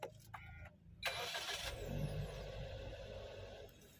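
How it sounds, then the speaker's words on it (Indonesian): Suzuki Ertiga GX AT Hybrid 2022 with push-button start firing up after a few faint clicks, a brief crank rising into a steady, moderately loud idle hum close by. "sistem menyalakannya itu injek rem, lalu pencet engine start stop"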